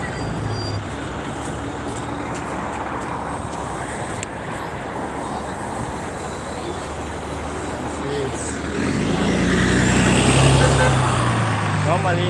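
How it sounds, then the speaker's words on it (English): Steady evening road traffic in Kuwait near a bus route, a continuous dense roar of cars, buses and trucks close by, swelling louder toward the end as heavy vehicles pass. "Normally in the evening, there is a lot of traffic jam here during this particular time of the hour when it's evening."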